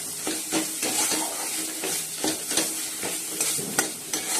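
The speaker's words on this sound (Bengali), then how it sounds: "ভালো করে মশলাটা কষিয়ে নিচ্ছি এরকম" Dry spices for khichuri (cumin, panch phoron, dried red chilli, bay leaf, ginger, cumin and coriander powder, turmeric, salt) are stirred and fried in a pan with a steady close sizzle and repeated scraping strokes of a spoon.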